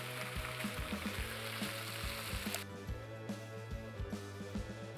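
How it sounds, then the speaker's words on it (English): Potatoes frying on a heating plate in the Cooking Simulator Shelter video game: a steady loud sizzle with a rhythmic, looping crackle pattern, brighter hiss in the first half then softer, no talking. "So we fry these potatoes for 35 seconds, huh?"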